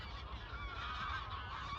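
Geese honk repeatedly outdoors, a faint, slightly distant chorus of overlapping calls with no talking.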